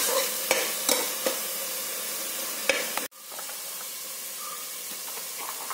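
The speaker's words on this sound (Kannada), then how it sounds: "ಇದು ಸ್ವಲ್ಪ ಆಯಿಲ್ ಅಲ್ಲಿ ಫ್ರೈ ಆಗಲಿ ಮಸಾಲ" Ground masala paste frying in oil in a pan, a dense close sizzle with a few sharp spoon knocks, then dropping to a quieter steady frying hiss.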